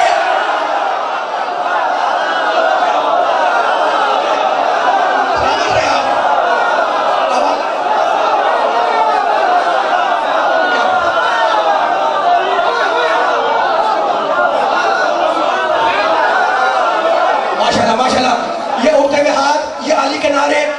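A large crowd at a Shia majlis gathering raises religious slogans in a loud, continuous roar of many voices, dense and sustained throughout with brief swells near the end.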